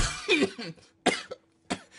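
A person coughs three times in short, throaty bursts with brief pauses between them, close up.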